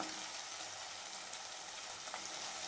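Egg curry with oil sizzling in a pan makes a steady, fairly quiet frying hiss, broken by small scattered pops and crackles.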